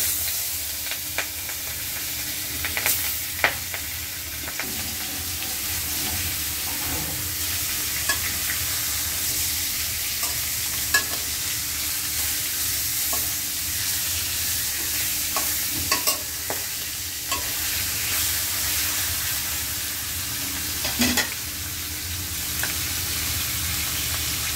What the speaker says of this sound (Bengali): এই যে মাছটি হলুদ মরিচ লবণ দিয়ে মেখে নিয়েছি, আমি চুলাই দিয়ে দেবো।